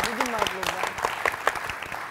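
Applause from a comedy show audience, a short patter of clapping heard under a voice speaking over it.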